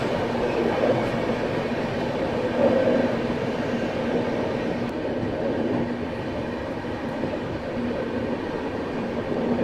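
The Sampoorna Kranti Express, New Delhi to Rajendra Nagar Terminal Patna, passes a station platform as a loud, continuous rumble of rolling wagons and wheels that holds steady throughout.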